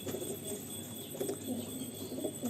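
Andhra pigeons coo softly in low, rolling, repeated murmurs, faint and close together in a quiet room, with no voices.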